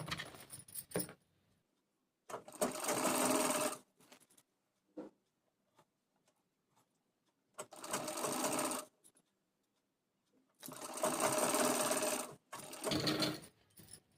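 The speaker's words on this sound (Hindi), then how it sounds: "इसी तरह से एक बार और इधर से सिलाई लगा के इसे" A sewing machine stitches a pleated-sleeve blouse in short bursts, with four or five loud runs of rapid needle clatter separated by near silence and small handling clicks.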